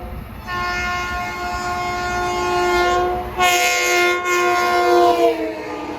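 An LIRR M7 electric train on the Ronkonkoma Line sounds a long, loud multi-tone horn at a grade crossing, then roars past close by, the horn blaring again over the rushing noise.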